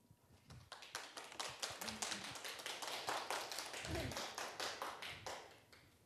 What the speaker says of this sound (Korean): 이제 박수 받네요.